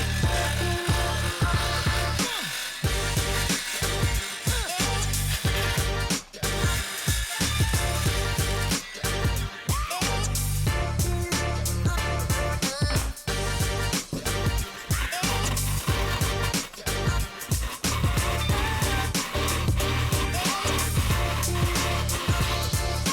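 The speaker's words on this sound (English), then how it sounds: "So we're just gonna use it to cut the end of this tube" A jigsaw fitted with a diamond blade cuts through the end of a fiberglass high-power rocket tube, a loud, continuous harsh rasping buzz that runs steadily for the whole stretch with brief stutters as the blade bites.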